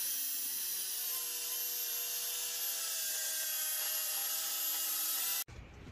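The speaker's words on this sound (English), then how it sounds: "We're about to start cutting the back piece for the box." A power saw cuts a maple wood back piece for a cabinet box, producing a continuous, loud high whine that holds steady for about five seconds before cutting off abruptly.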